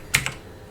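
Two quick keystrokes on a computer keyboard while entering a spreadsheet formula: close, crisp clicks in rapid succession, followed by quiet.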